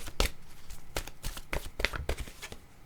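A deck of tarot cards shuffled close by, with a series of distinct papery slaps and riffles at an uneven rhythm, each burst clear and crisp over a quiet room.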